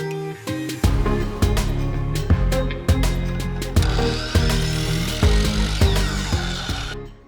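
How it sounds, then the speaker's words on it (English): A power saw rips 2x2 wooden boards into half-inch strips, with repeated loud bursts of motor whine and cutting rasp separated by brief clunks and pauses, close and without talk. "I started by cutting all those 2x2 boards down into 1/2-inch strips"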